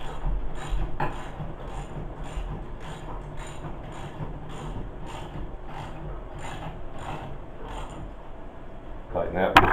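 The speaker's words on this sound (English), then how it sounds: "tighten the last two bolts and you don't have to worry about it shifting" Bolts being tightened with a ratcheting tool while assembling an adult tricycle, giving a steady run of close, regular clicking strokes with a brief louder clatter at the end.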